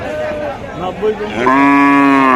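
A cow with a calf moos loudly nearby at a cattle market, a long drawn-out low call that swells and holds steady toward the end.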